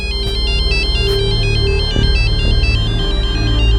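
An incoming call on a phone rings out in a repeating melodic ringtone, steady and loud throughout, with low hum and a few soft knocks underneath.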